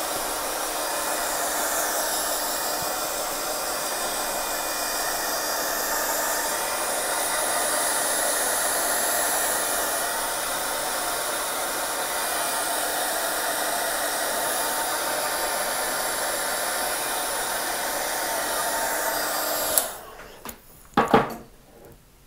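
A hair dryer blows steadily and loudly over a watercolor landscape painting for about twenty seconds, a constant broadband whoosh, then cuts off, followed by a few brief handling clicks and bumps.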